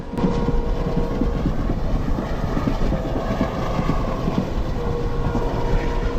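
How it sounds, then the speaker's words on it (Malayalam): A passenger train runs from Karunagappally via Tenkasi and Sengottai toward Madurai. The loud, steady rumble of the wheels carries a rhythmic clickety-clack, heard from on board throughout. "കൃത്യസമയം പാലിച്ചുകൊണ്ട് തന്നെയാണ് ഇപ്പോൾ ഈ ട്രെയിൻ പോയിക്കൊണ്ടിരിക്കുന്നത്"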